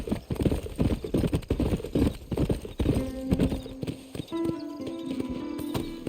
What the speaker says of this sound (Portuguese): Quanto mais você cavalga, mais você ganha afinidade do seu cavalo.